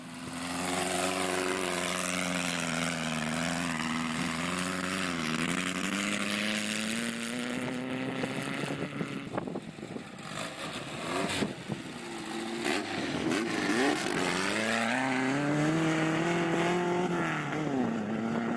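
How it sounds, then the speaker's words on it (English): A beach buggy's buzzy Volkswagen engine revs steadily, its pitch rising and falling as it accelerates and eases off, close and loud throughout with no talking. "Old mate of mine, Callum, he had an old beach buggy with a Volkswagen engine in it"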